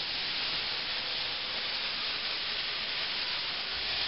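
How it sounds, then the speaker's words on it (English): Steam hisses steadily and evenly as water hits a hot oven while baking French bread, a constant bright spray of noise lasting several seconds. "That water hits it. That steam comes out fast."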